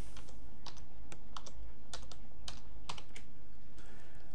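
Fingers typing a word on a computer keyboard: a quick, uneven series of crisp key clicks over a low steady electrical hum, with no voices.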